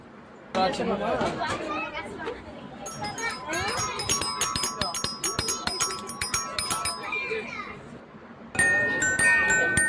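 A musical toy plays bright electronic chimes and tinkling melody, with people chattering nearby and a louder burst of toy tones near the end.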